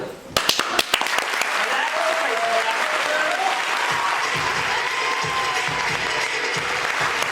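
Applause from a training seminar audience, sparse sharp claps at first, then steady dense clapping throughout with a faint voice underneath.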